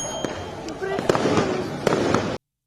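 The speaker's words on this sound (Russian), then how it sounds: "Цей звук може тебе лякати, але подивись, як гарно, це красиво. Це фейерверк і Ванечка" Fireworks burst overhead in a string of sharp, crackling bangs with booming pops scattered through, loud and close, while a person talks over them before everything cuts off abruptly.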